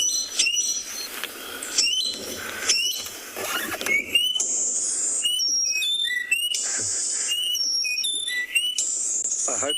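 A bird call played from a phone app outdoors at dawn on safari: clear whistled notes and chirps repeating in varied phrases, with other birds nearby and no talk.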